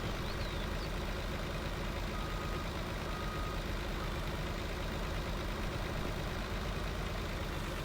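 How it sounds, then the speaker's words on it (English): A truck engine in Farming Simulator 19 idles without a break, dense, loud and rough, filling the whole clip with a steady low drone. "Does a truck usually sound like it's about to blow up when it's idling?"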